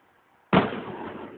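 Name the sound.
fireworks exploding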